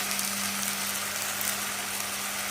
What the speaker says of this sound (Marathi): आता मसाला चांगला भाजला गेला